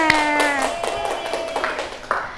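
A small group in a classroom lesson claps briefly, scattered taps over a lingering voice and background tone.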